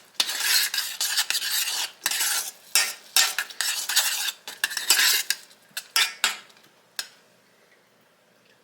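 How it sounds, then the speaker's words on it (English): A spoon stirs rice through boiling liquid in a pot for a deconstructed chili meal, making rapid, close scraping and clinking strokes in bursts that slow and fade into quiet toward the end. "Get that mixed around, stirred into that liquid very good."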